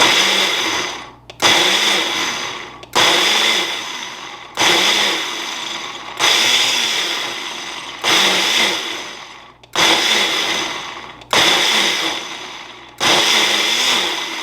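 A countertop blender pulses chopped pineapple in about nine short bursts of roughly one second each. Each burst is a loud whirring roar that cuts off abruptly, separated by brief pauses, with no talking.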